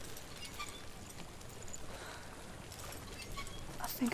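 In Hellblade: Senua's Sacrifice, water washes and laps in a soft, steady flow, with a slight swell near the end and no voices over it.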